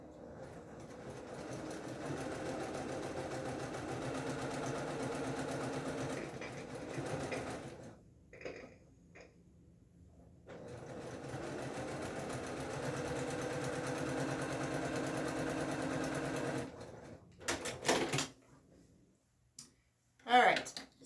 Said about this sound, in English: I'm going to sew that sashing on